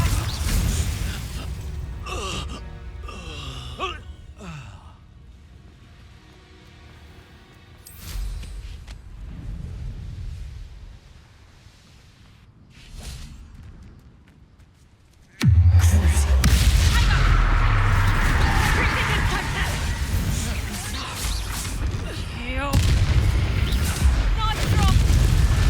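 A Confringo blasting spell bursts in Hogwarts Legacy combat, with a sudden loud boom and a surge of crackling, rumbling energy after a quieter stretch of scattered clanks and spell effects, while voices are heard.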